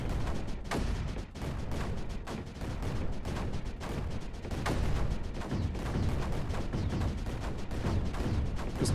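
Big mortars firing in the strategy game Creeper World 4 make a steady barrage of booming thuds and crackling impacts, dense and continuous over a rumbling backdrop.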